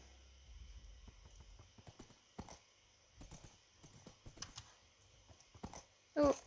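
Horse hooves clip-clopping in the game Minecraft, a series of faint, irregular clopping taps spread across the stretch at low level, with a brief sharper sound near the end.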